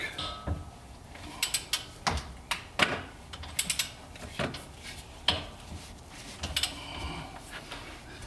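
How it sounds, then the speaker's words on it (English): Hand tools work loose the rear brake caliper on a Porsche track car, giving a close, quiet series of irregular metallic clicks and ratcheting snaps with short pauses between them. "So I'm loosening the caliper, gonna take this off."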